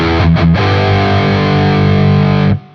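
Heavily distorted electric guitar playing a chorus riff in a live down-picking style, loud chugging palm-muted chords that ring out and cut off abruptly near the end, with no talking.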